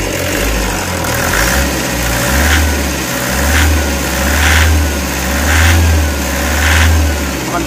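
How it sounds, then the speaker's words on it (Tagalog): Toyota Hiace Commuter engine with a knocking and vibrating valve train, blipped repeatedly from idle into quick rhythmic revs that rise and fall about once a second, loud and close with no talking. "Ayan na, i-RPM natin, tingnan natin yung lakas ng engine."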